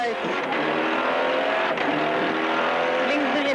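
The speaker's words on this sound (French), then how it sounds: "Sauf que son moteur fait un bruit bizarre." Race car engine at a 2002 Omloop van Vlaanderen rally, running with a strange noise as it begins to fail: a loud, sustained harsh drone with shifting pitch throughout.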